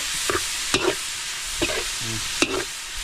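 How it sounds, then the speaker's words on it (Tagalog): Bopis, a Filipino dish, being stirred in a cooking pan for lunch, giving a few scattered scrapes and clinks of the utensil over a faint sizzle, with short gaps between strokes and no talking. "Halo-haloin po natin para po hindi masunog."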